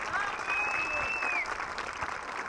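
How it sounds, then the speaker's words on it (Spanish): Audience applause at a live stand-up comedy show in a hall: a short burst of steady clapping from a crowd, fairly close and even, with a faint whistle-like tone over it. "están aplaudiendo la señora"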